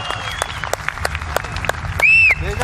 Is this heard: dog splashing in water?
no